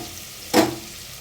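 Chopped onion and garlic hit hot oil in a home kitchen pan, giving one short burst of sizzling that rises suddenly and then fades into a quiet, steady background hiss.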